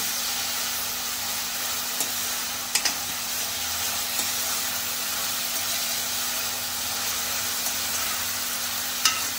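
Onion cooks in a pan for squid masala, a steady, close sizzle of frying with a few faint clicks of stirring spread across it.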